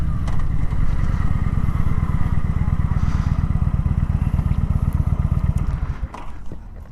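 Motorcycle leaning through a steep turn during cornering practice, the engine close and loud with a steady pulsing drone that fades and drops near the end.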